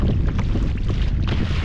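Strong wind buffets the microphone while choppy water slaps around a small fishing boat out on the water at midday, a dense, continuous roar with no talk.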